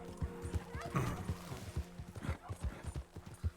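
Horse in the video game Red Dead Redemption 2: steady clip-clop hoofbeats trot close by with a brief whinny partway through, plus faint game ambience.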